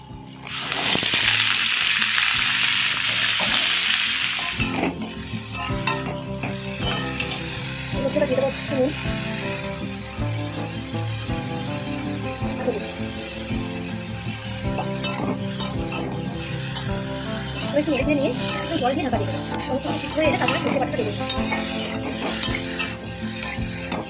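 Chopped vegetables tossed into a pan with fried green chilies and black cumin, hissing loudly at first then settling into a steady stir-fry sizzle with occasional scrapes, under intermittent talk.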